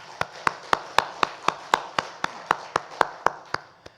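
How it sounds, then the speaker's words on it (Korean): A church congregation claps together for birthdays, loud, evenly spaced unison claps in a slow steady rhythm, about sixteen beats, ringing slightly in the room. "우리 박수로 축하합시다."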